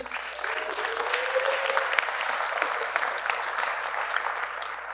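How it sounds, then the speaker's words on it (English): An audience at a real estate event applauding, a dense, even wash of clapping heard at moderate distance, sustained throughout without talk. "So clap it up for yourself, please."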